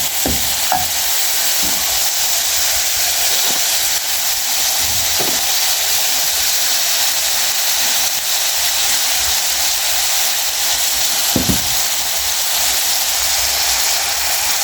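Pre-boiled meat sizzling loudly in a pot of Kenyan pilau, a constant close frying hiss with occasional clinks of stirring, no talk.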